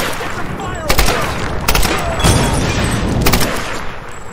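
Rapid gunfire bursts in the Tomb Raider (2013) video game, loud and close, with repeated shots and booms over a dense battle background.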